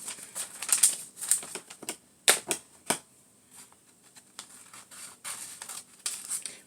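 Scissors cut apart a folded sheet of paper for a carnival shark craft, giving a series of crisp snips and rustles at irregular intervals, close by, with quiet gaps between cuts.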